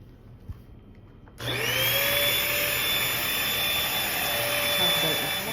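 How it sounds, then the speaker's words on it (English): A vacuum cleaner switches on abruptly after a brief quiet moment and roars loudly and steadily up close as it runs over carpet before a Rug Doctor carpet cleaning. "First step is to vacuum your carpet, which I'm gonna do now."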